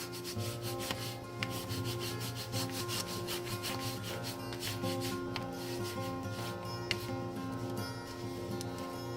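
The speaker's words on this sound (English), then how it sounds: "we're going to burnish all this down" Paper pieces for a mini album are burnished down, making a steady, close scraping and rubbing sound in quick back-and-forth strokes that continues without talking.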